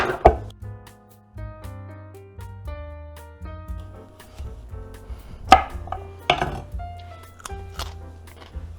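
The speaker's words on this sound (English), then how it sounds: "Next we need 1 carrot chopped into 1/2 inch pieces." A knife chops a carrot into half-inch pieces on a cutting board, giving sharp, irregular knocks close by over a quiet background, with a few louder strikes near the middle.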